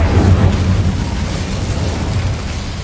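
A fire spell in Hogwarts Legacy bursts out as a loud, roaring whoosh with a deep rumbling body that holds steady and slowly tails off across about three seconds, with no voices.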